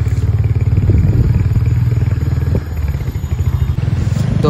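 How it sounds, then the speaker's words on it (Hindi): A motorcycle is ridden along a road, its engine thrumming loud and close in a steady pulsing rumble, with wind buffeting and rattles from the ride over about four seconds. "भाई ने बाइक निकाली और स्टार्ट करके हम चल दिए"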